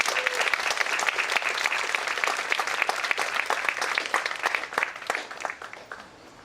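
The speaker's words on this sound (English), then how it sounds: "I would like a round of applause for your president and for Governor Justice." A crowd gives a sustained round of applause at a West Virginia State University event, thick and lively clapping with sharp individual claps standing out, gradually thinning toward the end.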